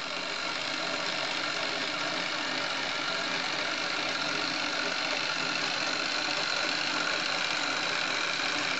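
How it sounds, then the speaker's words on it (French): Small electric motor running in a Meccano model fardier, a steep-wheeled steam-style wagon with gear-driven pistons and articulated arms, giving a continuous, even whirring drone with gear noise at a steady level throughout. "ce qui permet de voir le moteur en fonctionnement."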